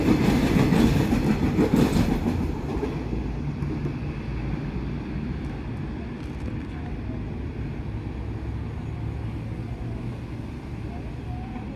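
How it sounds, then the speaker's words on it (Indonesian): A Sancaka passenger train hauled by two locomotives rolls past near Lempuyangan, a loud rumbling roar at first that settles into a steady, slightly softer clatter of wagons for the rest of the passage. "Kali ini dari timur Sancaka dengan double traksi."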